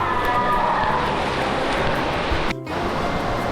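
Steady loud rush of a waterfall echoing inside a narrow slot canyon, a dense continuous roar with one brief dip near the end.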